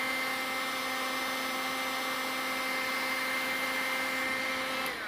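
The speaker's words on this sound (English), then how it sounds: "you grab your heat gun and you put it on there for a good, I don't know, just 10 seconds, 15 seconds" A heat gun running on high while warming spinnerbait wires gives a loud, steady blowing whine with a constant hum, unbroken for several seconds before cutting slightly at the end.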